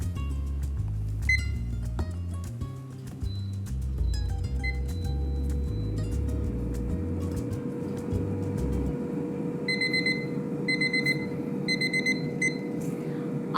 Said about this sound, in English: The 10-minute timer just went off